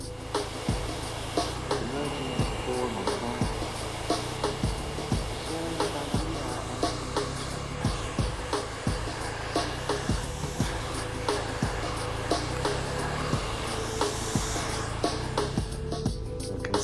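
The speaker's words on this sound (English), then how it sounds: "And then we're going to power dry the hair." A salon hair dryer blowing steadily as a stylist power dries a client's hair, a constant close airflow whine with faint rhythmic brushing clicks throughout.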